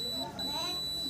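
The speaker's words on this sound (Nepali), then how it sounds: "ब्याट्री कनेक्टरको प्लस माइनसमा नै बजर बजिरहेछ" A tester buzzer sounds steadily across a shorted battery connector on an itel keypad mobile phone under repair, a continuous high beep-like tone lasting the whole moment.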